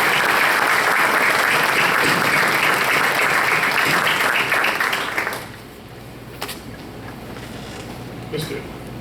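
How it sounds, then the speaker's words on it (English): A crowd at a board of education meeting gives a round of applause for teachers, a dense sustained clapping that fills the room for about five seconds, then stops abruptly, leaving quiet room tone and a few faint knocks. "So I'd like for you to give a round of applause for this."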